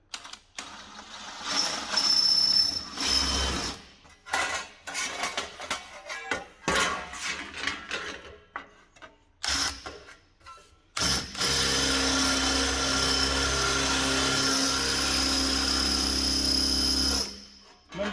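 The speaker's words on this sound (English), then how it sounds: "having a blunt drill bit is so much better to going through steel" A power drill with a blunt bit grinds through steel on a Ford Transit in bursts of whining, rattling noise broken by pauses, followed by one long steady drilling run.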